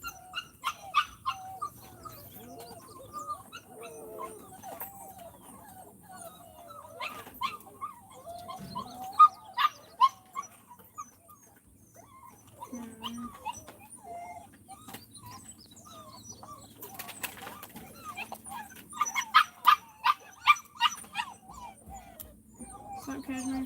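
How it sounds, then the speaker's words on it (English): Dogs yelp, whimper and bark in scattered bursts at a moderate distance, with quieter whines between clusters of sharper barks and no close talking. "There's some angry puppies somewhere."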